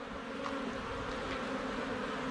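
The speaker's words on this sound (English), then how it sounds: "You slide it on slowly, and it just pushes the bees out of the way." Honey bees buzz at an open hive during a beekeeping lesson, a dense steady drone of many insects filling the whole moment at close range.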